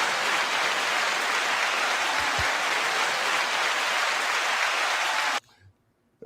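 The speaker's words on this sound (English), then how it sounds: "9-second applause to you all." A canned applause sound effect triggered from a button: a steady, dense wash of clapping at even loudness for about five seconds, then cut off abruptly into near silence.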